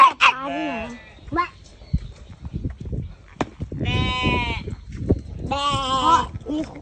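Sheep bleating at a farm near Cha-am and Hua Hin, with several loud, wavering bleats in bursts, one near the start and two long calls later, amid people talking.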